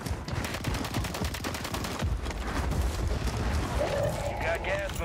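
Fortnite-style video game gunfire from a team fight: dense, loud, rapid shots and cracks run nonstop under excited players' voices.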